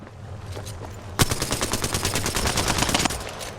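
A sudden burst of rapid automatic gunfire in the video game Apex Legends, a fast rhythmic string of shots lasting about two seconds after a quieter stretch.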